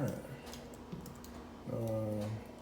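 Typing on an MSI GS66 Stealth laptop keyboard, with quiet rapid clicks and taps close by, partly under a voice and background music.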